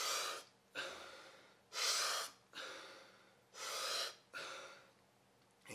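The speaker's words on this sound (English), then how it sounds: "He spends about a minute or two breathing in really, really deeply and just letting it out like this" Someone breathes deeply and rhythmically, close to the mic, in long audible inhalations and exhalations that alternate three times each with short pauses between.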